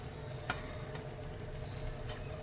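Spices added to hot oil for Himachali saag chicken, giving a steady close sizzle with a few soft stirring clicks and scrapes throughout, without talk.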